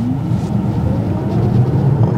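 A 2024 Tesla Model 3 facelift pulls away hard from a standstill with the accelerator floored, giving a steady low electric whine and road rumble that builds gently, with no talk over it.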